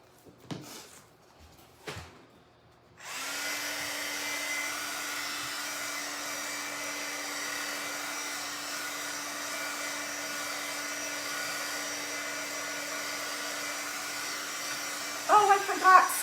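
A hair dryer runs in a steady, close whirring drone for about twelve seconds, drying mixed-media paint laid down with a palette knife. A few soft knocks and clatters come before it switches on.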